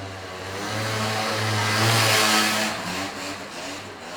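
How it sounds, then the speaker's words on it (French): A scooter passes through a city street as an added film sound effect, its mid-pitched engine swelling to a peak and then fading away over a few seconds, alone with no voices. "Donc on a rajouté des choses, entre autres le passage du scooter."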